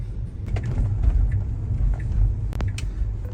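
A taxi car drives through the city, a steady low road rumble and engine hum inside the cabin, with a few faint clicks and rattles over it and no speech.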